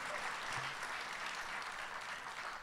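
An audience at an architecture talk applauds a newly introduced speaker, a steady wash of clapping that sounds fairly distant and soft throughout.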